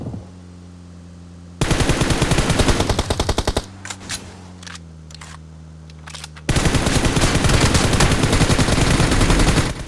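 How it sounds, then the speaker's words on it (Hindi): Automatic gunfire in the mobile shooter BGMI, long loud rapid bursts of shots over a steady game hum, a brief pause with scattered single shots, then another sustained burst, no talk. "भाई अब करते हैं फायर।"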